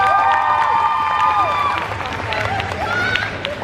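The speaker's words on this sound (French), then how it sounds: "je vous demande de l'applaudir encore une fois" Audience applause at the Made in Asia 2019 convention, with clapping mixed with whoops and cheering voices rising and falling over the crowd, loud throughout.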